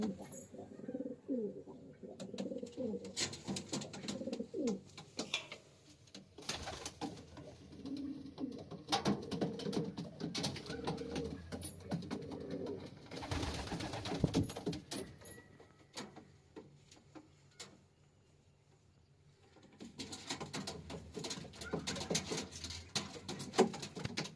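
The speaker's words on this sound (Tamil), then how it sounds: "நம்ம புறாக்கள் எல்லாமே நல்லா தரமான ரோமம் தான்" Racing homer pigeons coo softly in a loft, with repeated low, throaty coos overlapping over several seconds, along with faint rustling and a quieter stretch near the end.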